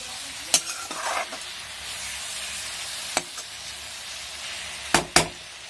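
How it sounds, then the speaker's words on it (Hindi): Sour star fruit (kamrakh) dish being stirred in a pan with a spoon, a few sharp scraping clinks at the start and end over a steady low sizzle, close and moderately loud, no talking. "अब इसको चला लेते हैं थोड़ा"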